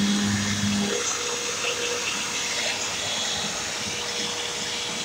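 A Hoover or Bissell vacuum cleaner drones steadily under a continuous broadband whoosh, with a brief low hum at the start before settling into an even running sound.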